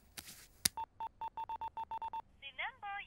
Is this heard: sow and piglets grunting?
no